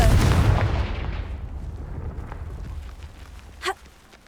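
A Confringo fire spell explodes in the Hogwarts Legacy video game with a loud booming blast that rumbles and fades over a few seconds, and a sharp short burst follows near the end.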